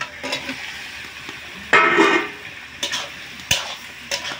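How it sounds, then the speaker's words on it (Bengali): Paneer and potato tipped into a red tomato gravy and stirred together in a pan, with a few scraping, sloshing bursts of stirring over a low simmering background and no talking. "এবার আমি এই পনির আর আলু একসাথেই দিয়ে দেবো"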